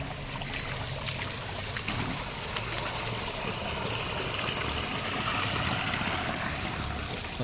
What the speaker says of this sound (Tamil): pump set ஓடிட்டுருக்குது